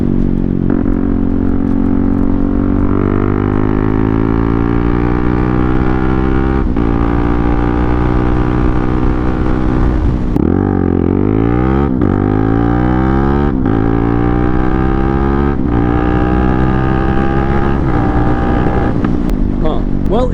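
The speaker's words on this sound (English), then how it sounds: "So this exhaust is a little on the louder side. The baffle has been taken out of it" A loud, raspy CFMOTO 300NK motorcycle exhaust with its baffle removed idles and revs repeatedly, rising and falling in pitch with a harsh, open bark.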